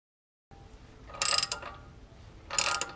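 A hand ratchet tightens a trailing arm bushing on a Volvo 240 in two brief bursts of rapid clicking, close and moderately loud, with a quiet pause between them.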